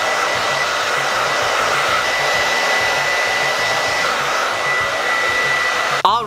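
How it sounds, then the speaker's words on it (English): A hair dryer blows with a steady, loud whooshing roar and a faint high whine, then clicks off abruptly at the end. "I'm going to plug in my hair dryer"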